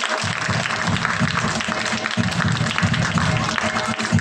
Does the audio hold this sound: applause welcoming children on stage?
yes